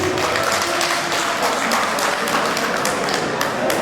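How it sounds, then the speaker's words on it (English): Loud, dense applause from convention delegates at a national conference, continuous clapping filling the room with a few sharper claps standing out. "Please give a round of applause to the rapid response team."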